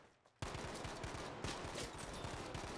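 Rapid automatic gunfire in Battlefield V, a sustained burst of close, loud shots that starts abruptly after a brief quiet moment and continues with dense, repeated cracks.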